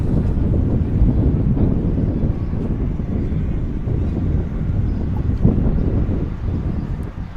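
Steady wind rumble buffeting the microphone at an outdoor baseball field during a college game, a constant low roar with no distinct breaks for the whole stretch.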